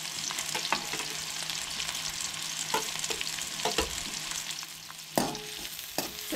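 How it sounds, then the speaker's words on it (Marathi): Sliced onions, cut lengthwise, fry in oil for a Goan prawn biryani, giving a steady, close crackling sizzle with occasional sharper pops and stirring clicks throughout. "हे बरे तळसळून घेऊन जाय."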